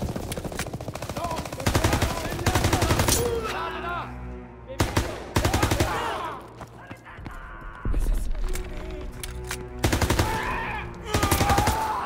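MP40 submachine gun fire in the video game Call of Duty WWII: repeated long bursts of rapid automatic shots separated by brief pauses, loud and close, with battle noise between the bursts.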